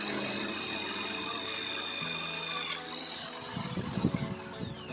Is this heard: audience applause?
no